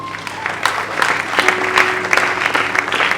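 Church congregation applauding at an ordination, a full crowd clapping steadily and warmly with scattered cheers and a sustained tone from music or a voice running underneath.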